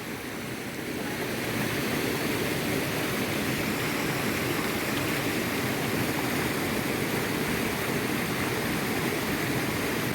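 Village stream water rushing steadily past a hand-built dam of stones that diverts its flow into another channel, a loud, continuous broadband wash close by with no voices.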